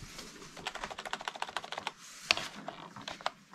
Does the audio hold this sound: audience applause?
no